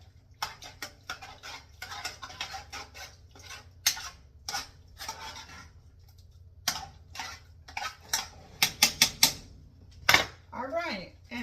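A spoon stirs rice in hot liquid in a ceramic crock pot, giving irregular clinks and scrapes in short bursts with quiet gaps, and a voice briefly comes in near the end.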